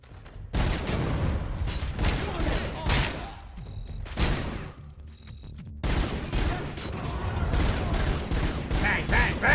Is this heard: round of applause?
no